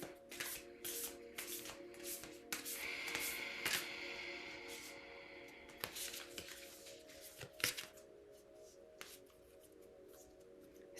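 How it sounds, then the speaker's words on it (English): A deck of cards is shuffled and handled up close, giving quiet bursts of riffling and soft flicks and rubs spread irregularly over the stretch, with no one speaking. "I'm going to start with pulling a card for the day."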